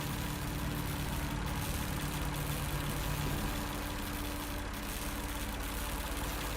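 Diesel generators run inside a shed in the video game Lost Horizon, giving a steady, unbroken low engine drone with a constant hum that holds at an even level throughout.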